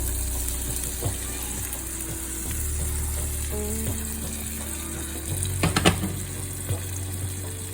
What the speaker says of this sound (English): Now I'm going to put in my egg and sardine mixture.